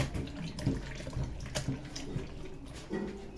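Tap water running into a pot while adding a little water for home cooking, a steady splashing flow with small gurgles and shifts in pitch, close by and without speech.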